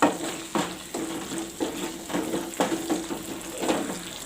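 Mutton liver gravy dusted with pepper powder is stirred in a pan: repeated spoon scrapes and knocks roughly every half second over a soft sizzle, close and moderately loud, with no voices.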